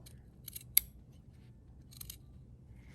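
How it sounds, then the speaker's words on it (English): Scissors snip through the fabric edge of a small zipper pouch, trimming it even: a few quiet cuts, then one sharp close snip, then another short burst of snips, with no talking. "So I'm going to cut looking over here, and I'm just going to take off a little bit"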